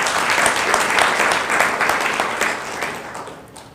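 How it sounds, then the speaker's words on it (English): Audience applause fills a gala dinner hall honouring the Kenya Police Bullets women's football team, a dense sustained clapping that stays loud before tapering off slightly toward the end. "A clap for them."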